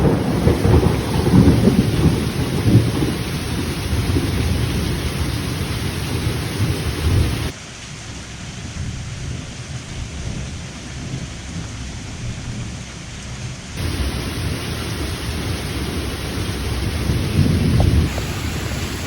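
A heavy thunderstorm pours rain in a dense, loud roar, with deep thunder rumbling underneath; the downpour briefly softens midway before surging back with full force.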